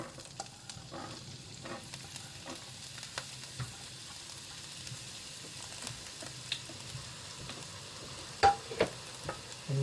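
Onions frying with spluttering cumin seeds in a multi cooker make a quiet, steady sizzle, broken by scattered small pops and a few sharper clicks of stirring near the end.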